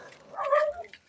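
A dog barks and yips in a brief burst outside a village house in Nueva Ecija, Philippines, close and moderately loud, then fades.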